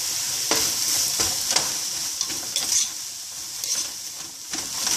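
Seasoned vegetables sizzle in a frying pan while being stirred, giving a continuous hiss broken by several scraping strokes at irregular intervals, close and fairly loud with no talking.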